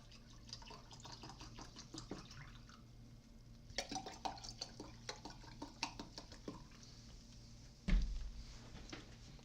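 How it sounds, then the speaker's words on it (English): Club soda trickles and drips into a cup of paint water, a faint run of small splashes and fizzing ticks with one louder clunk near the end, quiet and close. "A little club soda in my paint water today"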